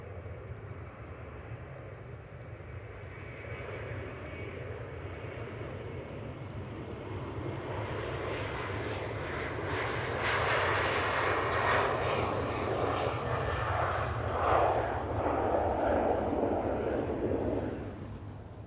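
A Ryanair airliner takes off from Manchester Airport, bound for Milan, its jet engines building from a distant low rumble to a broad roar that swells through the middle and holds, heard at a moderate distance.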